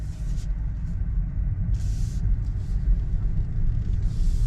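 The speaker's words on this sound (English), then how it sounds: "See how the Tesla drives." A Tesla Model 3 Standard Range electric car driving, heard as a continuous low road and tyre rumble from inside the cabin with a few brief higher whooshes, no talking.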